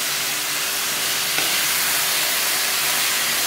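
Finely chopped sprouts frying with keema give off a steady, loud, broad sizzling hiss that holds unbroken throughout.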